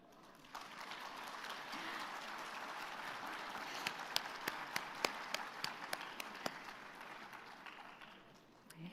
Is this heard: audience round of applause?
yes